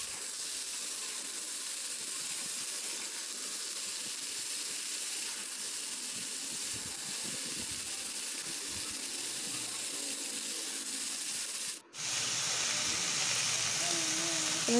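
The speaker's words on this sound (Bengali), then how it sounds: "সবজিটা আমি কষে নিচ্ছি, সব সবজি একসঙ্গে আমি দিয়ে নিয়েছি" Mixed vegetables sauté together in a pan for a homemade vegetable biryani, a steady loud sizzling hiss running throughout with a brief dropout near the end, and faint speech in the background.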